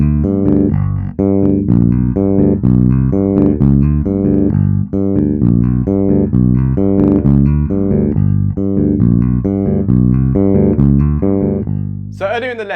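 A bass guitar plays a steady, bouncing country-style line of plucked notes in a repeating rhythm, four beats strung together, loud and close with no voices.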